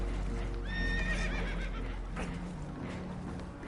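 Spooked horses on a damaged boat in Red Dead Redemption 2 give a loud, high whinny, followed by hoof clatter and agitated snorts over a constant rumble of water and wind.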